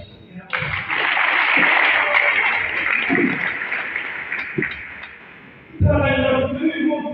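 An audience at a Teachers' Day event in Ndera sector claps in a sustained round of applause that runs for several seconds and then fades, followed by a voice speaking over a microphone.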